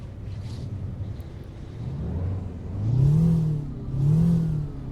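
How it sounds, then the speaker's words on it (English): A Kenworth Needle Nose truck with a V8 8V71 engine in American Truck Simulator revs twice, rising and falling through heavy bass surges after a steady idle, loud and close with no talking. "I like that high revving sound, and I also like that it's got more of a bass in this one."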